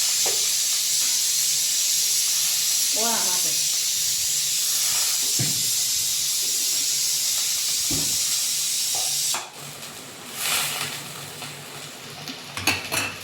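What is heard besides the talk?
garlic and green onion tempering sizzling in hot oil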